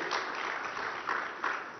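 An audience applauds Team ISRO for the Chandrayaan 3 success, a steady wash of clapping that holds at moderate loudness through the whole short stretch, with no voices over it.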